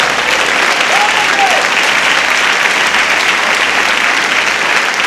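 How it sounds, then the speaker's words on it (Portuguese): A church congregation claps loudly at a Holy Communion service, producing a thick, unbroken wash of applause that holds at full strength for several seconds. "Bem forte as palmas."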